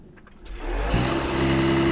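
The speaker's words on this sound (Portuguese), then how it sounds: "Bem mais agradável a partida por conta do sistema híbrido leve." A Mercedes-AMG GLE 53 with a mild hybrid system starts smoothly, with no cranking clatter, rising quickly into a steady, close, even idle hum that holds to the end.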